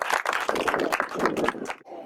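Audience applause for child and youth performers at a Christmas celebration gathering, a dense patter of clapping hands sustained for about two seconds, then cutting off abruptly near the end.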